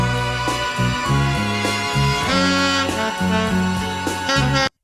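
A chopped, pitched-up sample plays loud and dense, with stacked sustained notes shifting in choppy blocks before cutting off abruptly.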